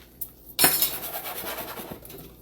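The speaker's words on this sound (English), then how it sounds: "in our pan, we're gonna go ahead and add some nuts" Nuts clatter into a metal pan in one sudden rattling pour, a small clink just before it, then a lighter jostle and faint pan rattle that fade out close by.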